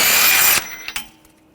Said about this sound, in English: Using a 36mm socket, take the nut off.